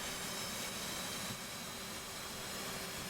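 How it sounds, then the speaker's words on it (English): An F/A-18C jet engine cranks and spools up in the DCS World flight simulator, a steady broadband whine and rush that stays faint and even throughout, with no talking. "left click to start to crank the left engine"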